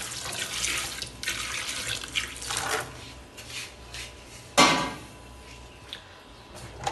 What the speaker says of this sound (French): je vais vider un petit de l'eau chaud